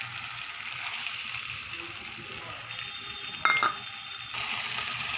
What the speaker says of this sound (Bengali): এর মধ্যে দিয়ে দেব এবার টমেটো বাটাটা